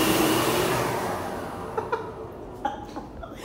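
A hand dryer running in a washroom gives a strong blowing whoosh that slowly fades away, followed by a few short knocks and light voice sounds.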